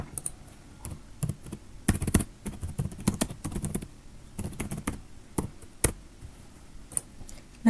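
Keys on a computer keyboard clack in irregular bursts while an SQL query is typed, close and fairly quiet, with short pauses between clusters of strokes and no talking.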